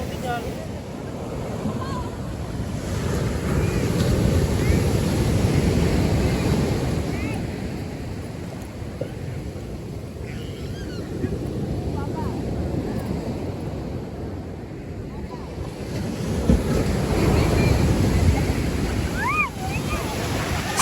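Sea waves breaking at Uthandi Beach in Chennai, a continuous roar of surf that swells and eases in slow surges, with wind buffeting the microphone and faint distant voices.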